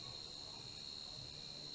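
Cicadas drone steadily in a Thai room, a faint continuous high buzz that never pauses, with no talk over it.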